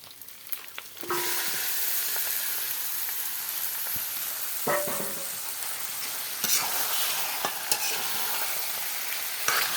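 Raw marinated chicken goes into fried spices in a hot pan and is stirred, giving a loud continuous sizzle with scraping spoon strokes and occasional clacks throughout.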